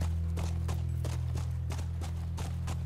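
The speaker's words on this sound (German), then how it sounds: "Ah, da ist das Pferd." A horse in The Last of Us walks with a steady clip-clop, evenly spaced hoof strikes sounding close over a constant low droning background.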